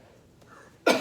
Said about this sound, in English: I'm having a time clearing my throat.